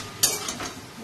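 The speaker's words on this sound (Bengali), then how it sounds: "কাঁকরোল ভাজা, আলু আর কাঁকরোল ভাজা" Potato and pointed gourd fry in a pan, with a sudden close burst of sizzle that settles into a steady, softer hiss over about a second.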